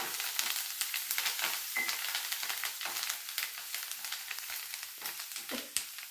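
Chopped green chillies and curry leaves sizzle in hot oil, alongside fried peanuts and chana dal for mango chitranna, a close, crackling hiss that runs steadily with sharp spits and pops.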